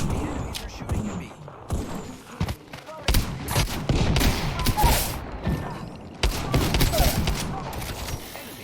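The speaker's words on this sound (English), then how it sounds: "The enemies are shooting at me." Enemy gunfire in an online shooter video game: rapid volleys of gunshots and thumping impacts come in dense clusters with brief lulls, loud and close, while a voice talks intermittently underneath.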